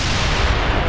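Blaster gunfire rattles out in the Star Wars: The Clone Wars Republic Heroes video game, a loud, dense burst of overlapping shots and booms filling a single second.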